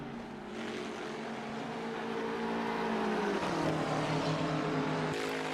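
GT3 race cars, including a McLaren and a BMW, race at Donington Park. Loud, steady engine drone builds, then drops in pitch midway as if shifting or braking, and carries on strongly to the end.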